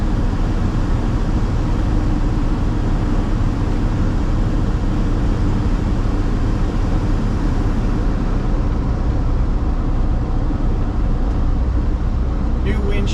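Engine of a 1973 Ford F250 pickup with a C6 automatic transmission, accelerating on the road: a steady, loud broadband roar of engine and road noise that holds throughout, with no talk over it.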